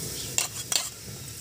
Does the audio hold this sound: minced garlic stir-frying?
yes